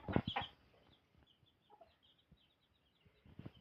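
A hen sitting on her eggs clucks faintly in short bursts at the start and again at the end, with quiet farmyard background in between.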